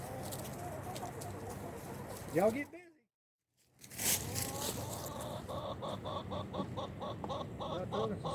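Chickens cluck and squawk close by amid a busy barnyard din, with someone talking over them and a brief silent gap midway.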